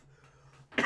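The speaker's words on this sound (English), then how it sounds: "Perfect time to pull the microphone closer when I'm about to cough." A single sharp cough bursts out close to a microphone after a brief moment of quiet, loud and abrupt, from a person who is sick.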